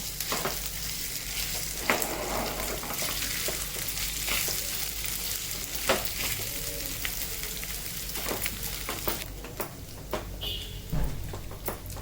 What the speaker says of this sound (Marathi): मग याच्यामध्ये ना हा बटाटा टाकते उकडलेला आणि दोन मिनटं आपल्याला हा परतून घ्यायचं आहे चांगला